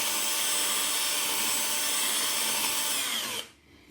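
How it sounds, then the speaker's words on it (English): A small cordless drill bores through a ceramic bathroom tile while a WC toilet and cistern are fitted, giving a loud, steady, gritty whirring grind for about three and a half seconds before cutting off abruptly, with no talk. "I'm only using my little cordless drill"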